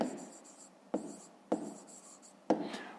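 Pen writing on paper during a fifth-grade maths lesson, close scratchy strokes with several sharp taps where the pen meets the page, steady and quiet.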